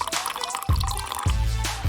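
Water poured into a thick mustard drink, a brief liquid splashing and trickling close by in two short bursts over a steady background.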